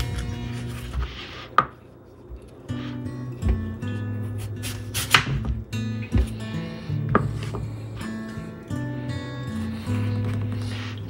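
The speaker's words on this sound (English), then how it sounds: "we're actually going to cut the pumpkin, we're going to remove the peel, and we're going to chop it up" A knife cuts and chops a fresh pumpkin for puree, peel coming off and pieces being split, giving uneven scraping strokes and sharp knocks on a board, fairly loud and close, with no talking.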